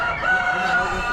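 Young Royal Red chickens at an Amish spring animal auction give a steady, fairly close run of clucking and crowing that lasts the whole moment, with no one talking over it.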